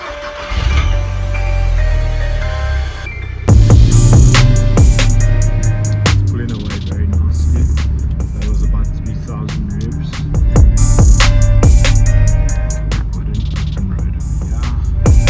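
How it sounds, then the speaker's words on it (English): A Volkswagen Golf 6 R engine cranks and starts after a low-pressure fuel pump replacement, its low idle settling into a steady hum with revs blipping and clicks layered over it, loud and close. "It's time to start the car and see if it'll start firstly"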